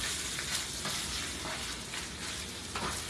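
Cheese being worked into a ground beef mixture with a utensil, heard as a dense steady crackling hiss with a few soft scraping strokes, close up and without talk.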